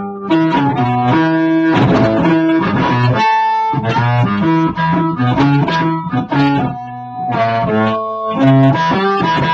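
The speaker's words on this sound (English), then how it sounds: "I'm going to turn on the Boss octave pedal, which is different from the Hog." An electric guitar plays through a Boss octave pedal, giving a fuzzy, heavily distorted tone with doubled low notes as a continuous, loud riff with brief pauses and no voices.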